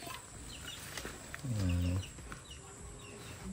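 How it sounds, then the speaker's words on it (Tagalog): A chicken lets out one loud, close cluck or crow, with quieter background sounds before and after. "May manok pa"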